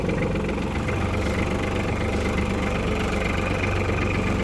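Japanese mini tractor with a cab and soil tiller attachment, its engine running steadily at idle, a continuous close mechanical drone with even knocking texture and no talk.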